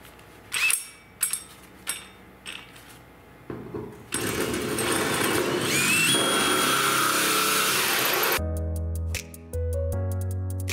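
A 2.5-inch hole saw bores through a panel on a Factory Five Roadster kit car build, starting with several short bursts before settling into a steady, loud grinding cut for several seconds, then a brief stop and restart.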